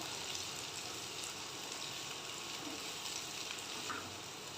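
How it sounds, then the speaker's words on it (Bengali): Onions frying in a pan for mutton keema ghugni, a soft, continuous crackling sizzle at low, even volume throughout. "পেঁয়াজটা ভালো করে লাল করে ভেজে নেবো"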